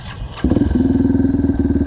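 A Yamaha TTR230 dirt bike engine, uncorked and rejetted, sputters briefly, then catches and settles into a fast, even putter close by, running alone without voices.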